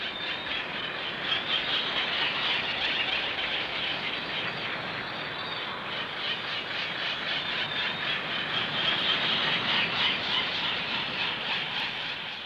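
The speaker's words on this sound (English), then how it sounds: "the squeals of the noddy chicks are the predominant sounds in Kusan's forest" Dense, continuous high squealing from many noddy chicks fills a Seychelles island forest, a shrill chattering chorus that rises and falls slightly without pause, with no talk.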